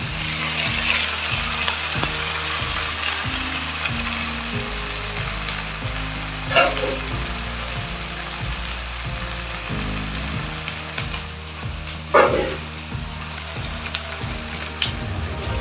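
Duck meat sautéing in oil with salt, turmeric and Kashmiri chilli, a constant close sizzle with occasional scraping stirs and a couple of sharp clatters, no voices.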